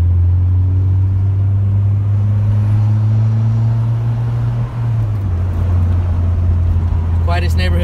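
A 1999 Honda Prelude driving fast through a quiet residential neighborhood, heard from inside as a loud, steady engine and road drone with a brief dip in pitch midway; a voice comes in at the very end.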